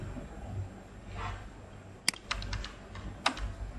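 Computer keys tap softly during coding work, with a few sharper isolated clicks over faint room noise.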